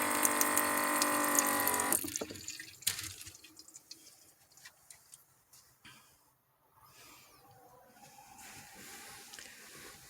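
Water runs steadily from a camper sink faucet, fed through the intake line of a DIY truck camper, then stops abruptly after about two seconds, leaving a few faint drips and small clicks in a quiet room.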